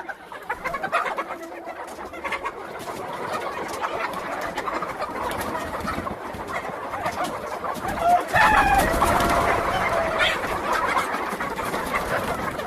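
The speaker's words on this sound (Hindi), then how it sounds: "और सारी देखिए एक्टिव और हेल्दी मुर्गी है।" A flock of Australorp laying hens clucks and murmurs continuously nearby, with occasional louder squawks rising over the busy coop noise.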